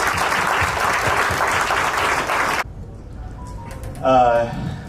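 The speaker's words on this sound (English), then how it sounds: "A big round of applause for him." Audience applause at a company's fifteenth anniversary event, a dense steady clapping that cuts off abruptly, followed by a voice and a short burst of music.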